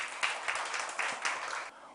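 A church congregation claps in a brief, faint burst, with uneven pulses of hand claps roughly four times a second before it fades out.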